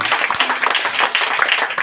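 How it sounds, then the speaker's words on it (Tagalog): Dense, steady applause from a church congregation during a worship service, loud and continuous throughout with no pauses. "Malakas na palakpak sa ating Panginoon."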